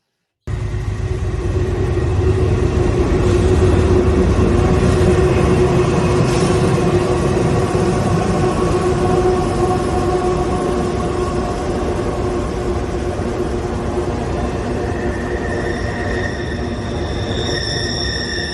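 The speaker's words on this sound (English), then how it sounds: "I completely forgot the sound that the trains make going over that." A train rolls over a trestle bridge in a loud, sustained, steady rumble with a low mechanical drone, and thin high squeals and tones rise toward the end. No voices.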